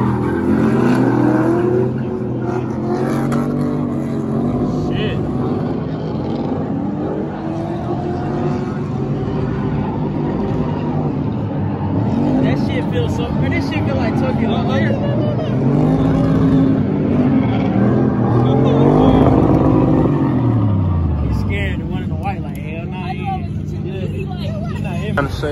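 Race cars roar and rev at a drag racing event at Atlanta Motor Speedway, engines rising and falling in pitch amid crowd babble, with a loud car passing by near the end and people talking throughout.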